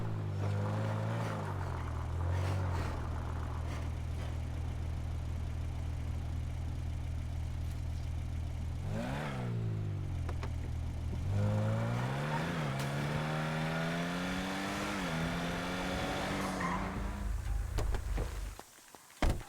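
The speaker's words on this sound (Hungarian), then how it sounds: "Indíts be a motort." A nearby car engine revs hard through its gears while driving, the pitch climbing and then dropping at each shift in one continuous loud run that cuts off sharply at the end.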